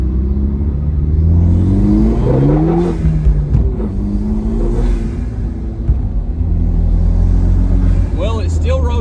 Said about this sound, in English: Let's get on throttle once right here just to see if anything's gonna break.